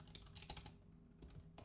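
Quick bursts of keystrokes on a computer keyboard, faint and close, with a brief pause in the middle and no talk.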